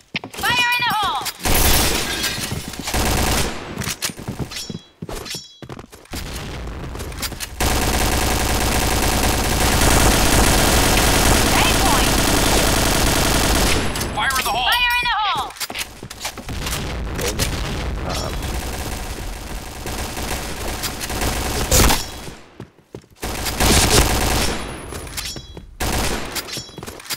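Bursts of automatic gunfire and explosions in the online shooter CrossFire, loud and dense, with rapid fusillades broken by short gaps, while players talk and shout over the action.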